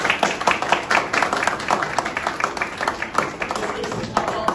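Audience applause for the newly installed director of the national ambulance centre, a dense patter of clapping that runs steadily throughout with voices mixed in.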